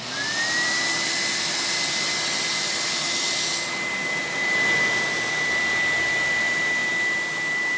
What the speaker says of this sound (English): That's how it sounds on high speed.